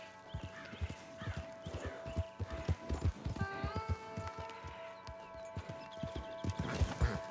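Horse hooves clip-clop in steady, fairly close strides across a Red Dead Redemption 2 game scene, with occasional whinny-like calls and tonal game sounds layered over the rhythmic footfalls.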